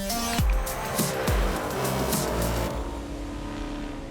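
A Mustang and a Camaro run hard laps on a racetrack, engines revving loud and close with sharp shifts and drops in pitch as they push through corners and pass by.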